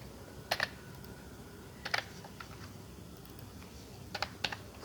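Python code typed on a computer keyboard: faint, sparse clusters of quick key clicks separated by pauses, with no talking.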